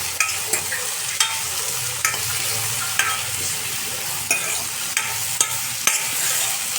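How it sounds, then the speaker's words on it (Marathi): A paste of green chili, garlic, cumin and plenty of coriander frying in a pan gives a steady close sizzle, punctuated by crisp periodic scrapes of a spatula stirring roughly once a second. No speech. "तर आता हे वाटण टाकणार आहोत आपण, मिरची, लसूण, जिरं आणि कोथिंबीरचं."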